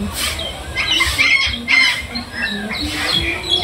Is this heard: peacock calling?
yes